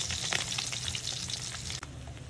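Daing, dried fish marinated in vinegar and garlic, sizzles steadily in hot oil in a pan, a dense continuous crackle that holds close and loud throughout with a brief dip near the end.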